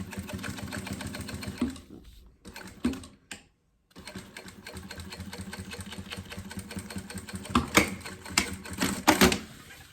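A sewing machine stitches fabric lining for a two-colour box-style school pencil case, chattering in close runs that break off into a short silence midway, then resume with faster, sharper bursts toward the end.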